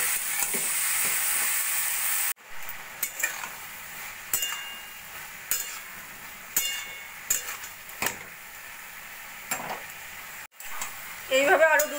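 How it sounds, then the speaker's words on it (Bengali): Vegetables with chopped tomato, salt and turmeric frying in a pan, giving a steady sizzle broken by clinks and scrapes of stirring, with a brief pause and a sharper crackle near the end. "দিয়ে আরও কিছুক্ষণ ভাজা ভাজা করে নেব।"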